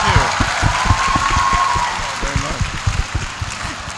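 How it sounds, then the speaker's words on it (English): Clapping from attendees closes a TOEFL tips seminar, moderate applause blended with someone speaking over it, the clapping thinning out toward the end. "Big applause to all of you."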